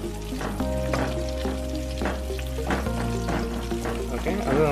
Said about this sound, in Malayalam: അത് നന്നായിട്ട് സോട്ട് ചെയ്തെടുക്കുക.